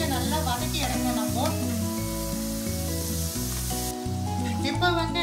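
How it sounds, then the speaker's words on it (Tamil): Mutton pieces fry and sizzle in hot oil in a pan, a steady close sizzle running under a rhythmic melodic music track. "மட்டன் வந்து எண்ணெயில நல்லா வதக்கி எடுக்கணும்."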